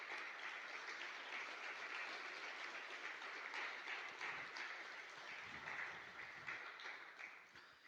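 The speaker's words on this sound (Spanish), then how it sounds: "Denle un gran aplauso al Señor." Church congregation applauding during a Sunday service, a dense, even wash of clapping that holds steady and heard at a distance, fading slightly toward the end.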